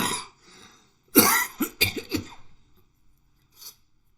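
A person coughs several times in a short, harsh burst, followed by a quiet pause and one more faint cough.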